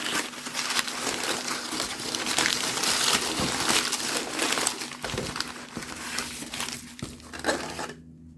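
Continuous crinkling and rustling of plastic parcel wrapping around begonia plants being handled and pulled open, with occasional sharper crackles and tearing, close up, then abrupt quiet.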